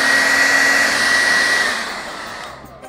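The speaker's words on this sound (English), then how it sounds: "Water and a blow dryer, de-wrinkle." Hair dryer blowing steadily on damp, spray-moistened clothes to smooth out wrinkles, a loud continuous whooshing hum that fades slightly near the end, with no talking.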